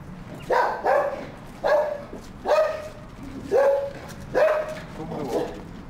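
A dog barks five or six times in an evenly spaced series, close and fairly loud, each bark short with a sharp onset.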